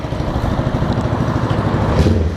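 A motorcycle engine fitted with a tuned mini carburetor runs steadily at a loud, close, rough idle, its pulsing low drone continuous and unaccompanied by speech.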